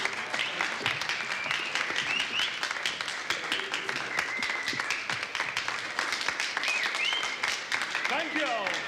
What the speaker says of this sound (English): Now give them a big round of applause.